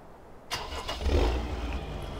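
A large tractor engine in Farming Simulator 2015 cranks and catches, settling into a steady low rumble after a brief burst of starter noise, heard alone and fairly close.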